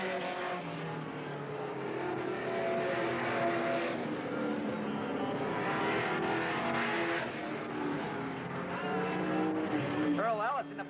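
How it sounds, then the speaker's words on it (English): Race cars lapping a speedway oval at a 1988 Willamette Speedway event, engines droning steadily throughout at a constant loud level, with a race announcer talking over the whole stretch. "Tom Tesh, one more lap to go for the 4 car, and he's got her all wrapped up."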